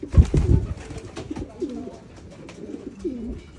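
Homing pigeons in free flight training coo nearby in several low, throaty, rolling calls, mixed with close rustling and soft knocks.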